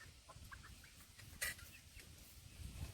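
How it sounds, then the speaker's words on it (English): Chickens clucking outdoors on a breezy day, with several soft, short clucks at moderate distance over wind rumble and one sharper burst in the middle, with no talk. "look at these chickens"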